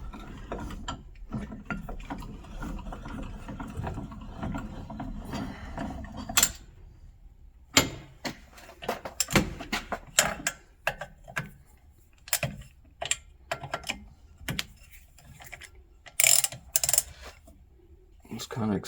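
Ratchet wrench clicking as it turns bolts during a hands-on repair, with sharp, irregular ratcheting bursts and metallic clinks up close, after a stretch of low mechanical rumble and some talk.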